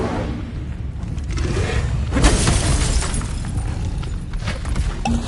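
Incendio fire spell cast in Hogwarts Legacy: a broad, roaring whoosh with crackling, shattering texture that swells near the middle and stays dense and loud throughout, with no talking.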